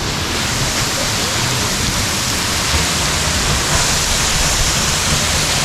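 A waterfall at Ellora Caves near Aurangabad drops from high above with a heavy flow of water, making a steady, loud, unbroken roar of rushing water from start to finish.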